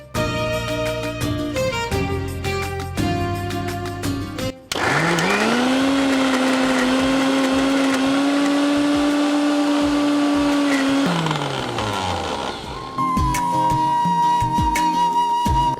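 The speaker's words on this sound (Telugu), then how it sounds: "సో ఒకసారి మనము మిక్స్ చేసుకొని మళ్ళీ మిక్సీ పెడతాం." A mixer grinder runs at full power, blending ingredients for a high-protein patty. Its loud, steady motor whine starts, stops, then starts again at a different pitch, with no one talking.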